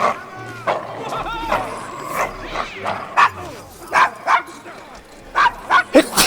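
A small dog in the video game Assassin's Creed Syndicate yips and barks in short bursts, several sharp barks spaced through the clip, with people talking in between.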